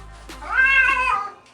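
A cat yowls in a single long, drawn-out meow while being bathed, loud and close, rising and then trailing off over a low background rumble.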